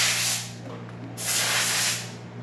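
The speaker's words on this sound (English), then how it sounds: "Excellent steam coming out from the one." Steam hisses from the wand of a Rocket Cinquantotto espresso machine, just repaired after leaking water, in two loud bursts over a steady low pump hum.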